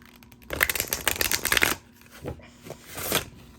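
An oracle card deck of stiff cardboard with glitter on it is shuffled by hand, a close riffling flutter in two or three bursts: a long run, then shorter ones.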